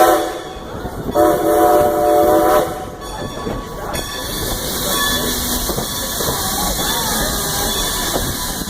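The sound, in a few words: Strasburg Railroad train whistle at a crossing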